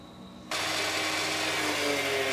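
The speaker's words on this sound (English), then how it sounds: "I'm gonna run this through the planer." A wood planer roars into action as a board is fed through, jumping from a quieter hum to a loud, dense, steady machine noise after half a second.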